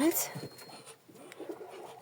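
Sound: pigeons cooing

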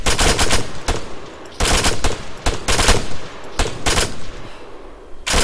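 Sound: machine gun fire in video game

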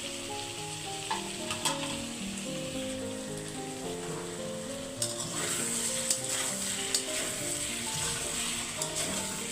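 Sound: curry being sautéed and stirred in a pan

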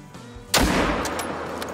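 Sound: rifle shot at a deer in the video game Call of the Wild

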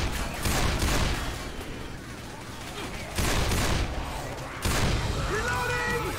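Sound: gunfire in the video game Left 4 Dead

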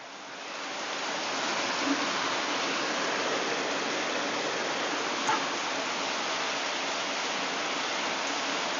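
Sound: heavy rain falling on trees

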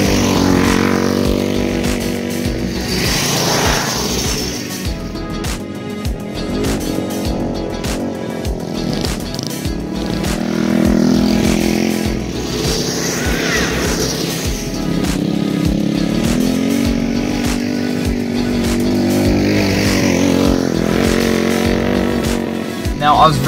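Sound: Roadkill go-kart engine during a ride

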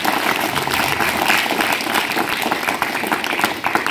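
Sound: audience applause

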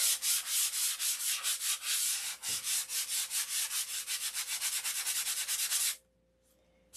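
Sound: sanding doped silkspan covering to remove wrinkles

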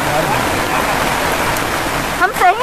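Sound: heavy rain falling on protesters at a sit-in

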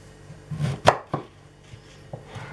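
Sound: knife dicing vegetables on a board

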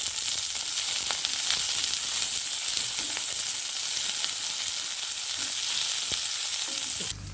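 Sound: sautéing onions and garlic in a pan

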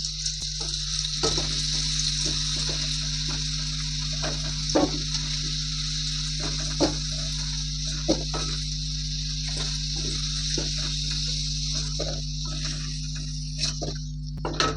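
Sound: potatoes frying in oil

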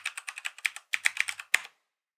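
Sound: typing a password on a computer keyboard

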